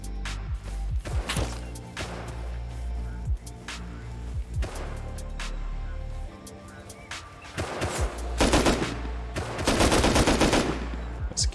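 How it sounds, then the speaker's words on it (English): Bursts of AK rifle fire ring out in the Rust Console Edition survival game: scattered single shots, then dense rapid volleys near the end, loud and sharp against background game ambience. "Oh, fuck, he's got an AK."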